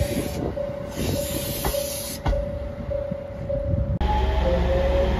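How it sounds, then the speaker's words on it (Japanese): A two-car JR Shikoku 7000 series electric train running steadily with a continuous motor whine and rail rumble, a hissing rush, and sharp clunks as it moves along. "箕浦駅12時42分着高松行き二両編成です。"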